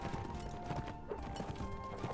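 Horse hooves clatter in the medieval battle game Mount&Blade: Warband, a quiet, quick, irregular clip-clop set against dense background battle noise.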